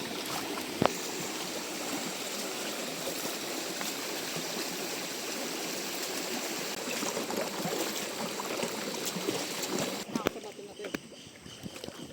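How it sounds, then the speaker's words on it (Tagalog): A steady, broad rush of flowing river water on a hiking trail in San Jose, Tarlac, continuing throughout, with a few brief knocks and splashes near the beginning and toward the end. "Panibagong ilog."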